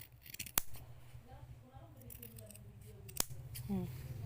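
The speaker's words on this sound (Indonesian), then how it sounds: "2 lapis gunting. Kemudian nih kamu gunting." Scissors snip through two layers of felt fabric while making a felt keychain craft, giving two sharp crisp cuts about three seconds apart, with a voice speaking over quiet room noise.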